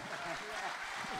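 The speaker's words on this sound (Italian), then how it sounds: "Facciamo un grande applauso" A live audience claps for a performer, a steady patter of applause with a voice speaking over it.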